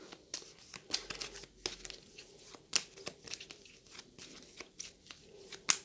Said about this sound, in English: So we'll give them a shuffle.